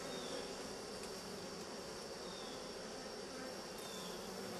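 Bees fill the combs of a healthy top bar beehive, producing a dense, steady buzzing hum heard alone and close, with no talking.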